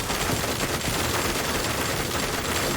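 Enemy gunfire in The Division 2 rattles without a break, a dense and loud stream of rapid shots that fills the whole stretch with no talk.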